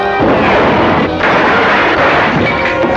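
Gunfire in an old Superman TV show, bullets bouncing off Superman's chest, heard as a loud, dense burst of shots and crashing impacts filling the whole moment with no talk.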